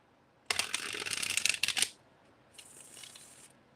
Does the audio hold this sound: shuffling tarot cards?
yes